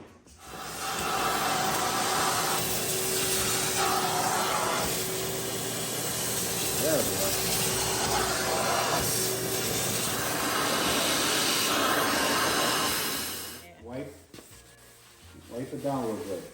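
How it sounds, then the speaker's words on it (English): A vacuum cleaner cleans out a car being restored, giving a loud, steady hissing roar for about twelve seconds before it cuts off. Voices follow at the end. "So if you can vacuum all the stuff out."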